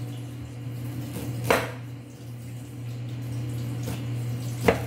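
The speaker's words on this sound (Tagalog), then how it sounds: "Then mag-slice naman po ako ng luya." A knife slicing fresh ginger into strips on a cutting board lands two sharp, isolated taps a few seconds apart, against quiet kitchen background noise and a low hum, with no speech.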